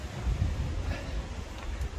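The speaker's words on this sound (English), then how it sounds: "I was going to have to buy a new armband anyway, because it's really windy" Strong wind buffets the microphone outdoors during a run, producing a continuous low rumbling gust noise with no other clear sounds.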